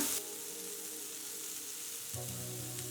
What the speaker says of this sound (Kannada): ಟೊಮೆಟೊ ಈರುಳ್ಳಿ ಎಲ್ಲ ಚೆನ್ನಾಗಿ ಮೆತ್ತಗಾಗಬೇಕು ಅಲ್ಲಿವರೆಗೂ ಹುರ್ಕೊಳ್ಳೋಣ